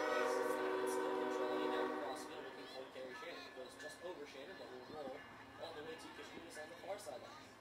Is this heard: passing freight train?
yes